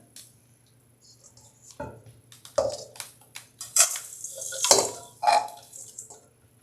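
Crushed Oreo cookies tip out of a blender jar into a bowl, making a few scattered clattering, rattling bursts of crumbs and bumps of the glass against the bowl, close by and irregular.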